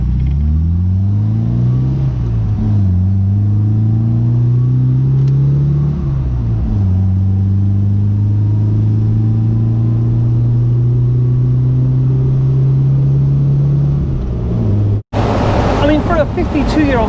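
A 1968 MGB roadster engine revs up through several gears, pitch climbing then dropping at each shift, ending with a sharp cut and a rush of wind.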